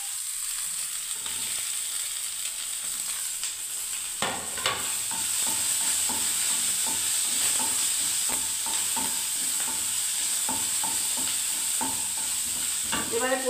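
Capsicum and vegetables fry in a pan for chire poha with a constant hissing sizzle, while a spatula stirs with repeated light scraping clicks, close and steady throughout.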